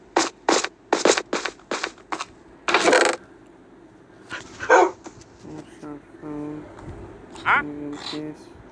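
A dog barks in a rapid series of sharp, close barks, then gives whimpers and yips, with people talking over the later part.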